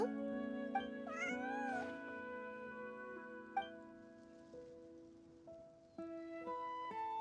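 A cat meows repeatedly in Genshin Impact. The short, clear mews come in a quick series over soft game music with light rain-like ambience, and there is no talk.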